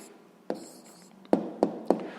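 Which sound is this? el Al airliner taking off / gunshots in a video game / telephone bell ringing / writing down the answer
writing down the answer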